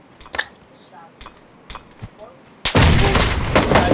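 Grenade blast in the PUBG battle-royale shooter: a sudden loud, broadband explosion bursts in near the end and roars on, after a few sparse clicks and taps.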